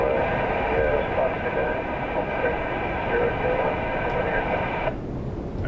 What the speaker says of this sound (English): Thai, Emirates, sorry, I had to go Emirates. A380.